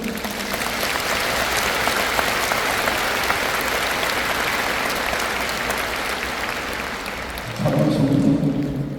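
A church congregation at a Korean denominational anniversary assembly applauds steadily, dense sustained clapping filling the hall for about eight seconds, swelling louder near the end as an organ or music chord enters.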